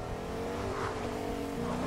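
A car engine in a squad video game hums and revs steadily at a loud level for under two seconds, with a continuous droning tone and no talking.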